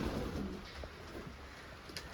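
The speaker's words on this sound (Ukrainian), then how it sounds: "хочемо показати вам ще, хто не бачив, які в нас є голуби" Pigeons at a dovecote coo softly in low, murmuring bursts against quiet background noise, fairly close but faint.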